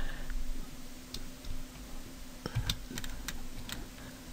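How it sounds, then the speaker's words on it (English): Close, steady typing on a computer keyboard, with irregular key clicks and taps over a faint background hum. "Now I'm going to type here, click and type here."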